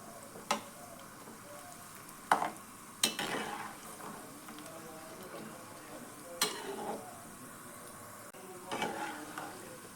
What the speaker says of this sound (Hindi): इसी तरह से हमें सारा नारियल भी फ्राई कर लेना है।